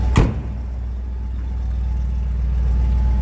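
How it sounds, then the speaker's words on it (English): A fuel-injected car engine idling smoothly with a mild, low exhaust rumble, steady and close, after a brief sharp knock at the start; no one speaks. "No crazy exhaust, just a nice sounding little rumble out of it."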